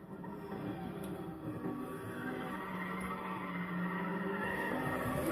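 Tires screech as a car brakes hard and skids in a racing video game played on a Thrustmaster T300 GTE wheel, with nitrous boost and a BMW rival. The engine roars loudly and steadily throughout, with the screech layered on top.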